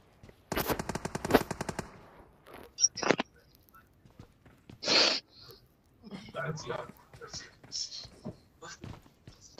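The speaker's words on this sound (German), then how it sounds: "Ich höre Schüsse, Alter." Automatic gunfire in the mobile battle-royale game PUBG Mobile, a fast rattling burst near the start and a few single shots after, heard through game audio while players talk and murmur over it.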